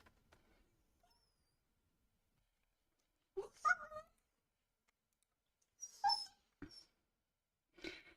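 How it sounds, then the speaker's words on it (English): A dog in a room with a new hard floor and no carpet makes a few short whimpering and clicking sounds in sparse bursts, separated by long quiet gaps. "If you see a dog, you would be correct."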